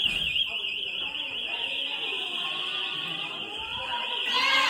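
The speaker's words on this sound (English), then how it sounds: "This alarm is so annoying." A fire alarm sounding at a train club, a loud, piercing continuous electronic tone that persists throughout while people talk over it nearby.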